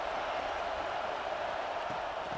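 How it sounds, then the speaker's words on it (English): A stadium crowd in the EA Sports College Football 26 video game, at an Alabama versus USC game, keeps up a steady, distant, broadband roar of cheering and clapping, alone and even in level for the whole stretch. "This crowd ready to make its presence known."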